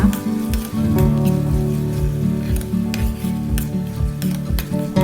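Chili paste with mashed fermented soybean and sugar is stir-fried in a pan for Shanghai-style chili sauce, the spatula scraping and rubbing in a steady repeating rhythm over a low continuous sizzle, close and moderately loud with no talking.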